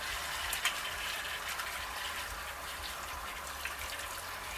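Tap water runs steadily for hand washing at a home kitchen sink, a soft continuous hiss and splash with a few faint drips, at moderate distance and with no talking.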